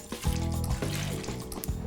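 A custard mixture of egg yolks, sugar and cream is poured, giving thick, gloopy liquid glugs and splashes in a few uneven bursts, close and fairly quiet.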